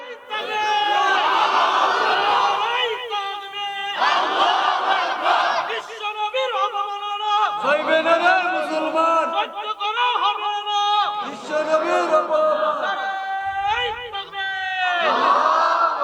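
A large crowd at a Bangla waz sermon chants religious slogans in loud unison. The shouted calls and responses repeat in bursts with short gaps between them, filling the whole stretch at close, full volume.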